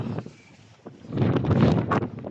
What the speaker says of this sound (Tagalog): sobrang lakas ng hangin ngayon sandstorm pa